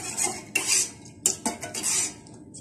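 Utensil scraping and clinking inside a pot while leftover beauty soap scraps are stirred as they melt. The scrapes come in several short bursts, close and moderately loud, with no talking.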